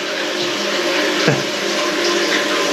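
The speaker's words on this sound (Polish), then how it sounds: "No i teraz lejemy wodę" Water pouring steadily into a well-water treatment filter tank for removing iron and manganese, a continuous loud rushing flow with one brief gurgle midway.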